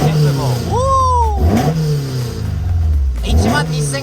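A Toyota AE86 with a 4A-GE 20V engine revs on a rural American road, rising in a sharp sweep, falling back, then climbing again. It sounds loud and close, with a voice partly over it.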